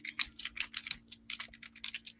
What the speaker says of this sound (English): let me put on mute on my end so that my typing doesn't interrupt your talking real quick